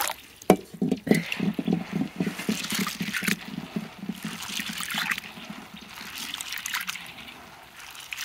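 Beans are washed in water by hand, giving continuous sloshing, trickling and splashing with rhythmic swishes at close range.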